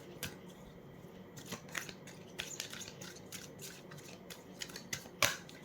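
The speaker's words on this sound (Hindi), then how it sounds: "जैसे मैं शफल करती हूँ ना, कनेक्ट करें इससे।" Tarot cards are shuffled by hand close up, giving quiet, irregular crisp flicks and riffles that build to a sharper snap near the end, with no voice over them.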